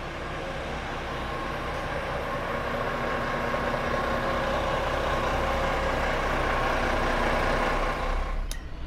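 A bus engine runs steadily at departure from Magelang, a continuous loud rumble and drone held throughout, with a brief sharp click near the end.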